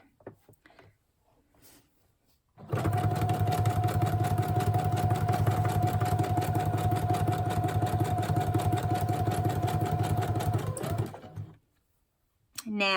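A sewing machine runs a zigzag stitch in one steady, fast, rhythmic burst lasting about nine seconds, close and clear, between quiet moments before and after.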